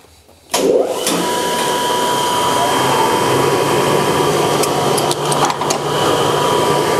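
A wide grinding disc works a narrow metal workpiece in a machine shop, a loud steady whining roar that begins abruptly after a brief quiet start and holds constant, with faint dips and clicks near the end.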